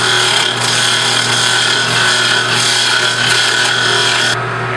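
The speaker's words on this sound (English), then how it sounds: "we're going to go back to my large gouge and start making a shape" A large gouge cuts into spinning wood on a lathe, shaping a funnel form, giving a steady, loud, continuous rasping scrape with a constant motor hum beneath, running unbroken with no talk.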